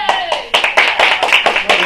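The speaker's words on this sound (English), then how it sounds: "Nice get applause early in the morning." A small morning seminar audience claps to welcome a speaker to the front, a short burst of close, bright hand claps in uneven clusters, with a voice briefly mixed in.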